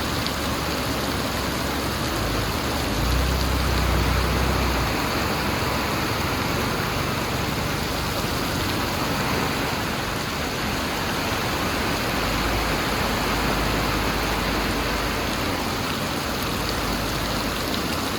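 Steady rain falling over a village in Thailand on a mid-afternoon, a dense, even hiss of drops close by that continues unbroken with no voices.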